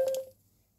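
A short electronic tone from an Android phone as it reads an NFC tag sticker, a single clear beep lasting a fraction of a second and then fading to quiet room noise.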